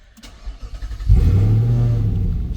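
A car engine cranks and starts with the key present, a brief starter whir followed by a steady, loud idle rumble that settles in close by.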